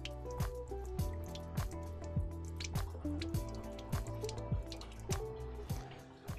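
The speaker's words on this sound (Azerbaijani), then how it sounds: "Bismillah deyə yavaş-yavaş suyunu süzək əlbəttə" Water being slowly strained off rice in a home kitchen, dripping and splashing steadily in a regular rhythm over a low running-liquid background, moderately close with no voices.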